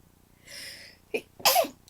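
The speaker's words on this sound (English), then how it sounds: "I'm going to sneeze now because I've had it in my face" A single sneeze up close: a soft breathy intake, a short catch, then a sharp explosive burst.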